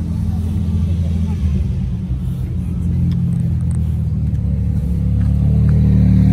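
An Aston Martin DB9 Rapide idles with a deep, steady rumbling engine close by at Place Vauban in Paris, swelling slightly toward the end, while someone talks over it.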